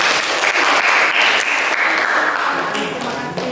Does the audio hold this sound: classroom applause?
yes